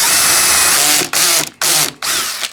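A power drill bores into the end of a piece of wood through a 3/8 drill guide clipped to a speed square, whining loudly in several bursts broken by short pauses, with the clutch catching.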